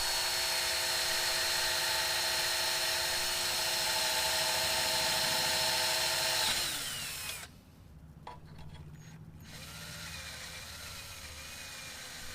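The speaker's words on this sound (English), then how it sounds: "Got my drill bit taped off so I don't go too deep on them." A power drill fitted with a tape-marked bit bores holes in a boat's metal bracket, whining loudly and steadily for about seven seconds before cutting off, leaving a quieter background hum.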